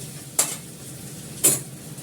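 Meat being sautéed in a little oil in a pan gives a low, steady sizzle, broken by two sharp scraping clinks of a utensil against the pan about a second apart.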